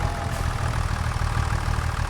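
A muddy tractor in a farming game idles steadily, its low engine throb running continuously and evenly at moderate loudness, with no speech.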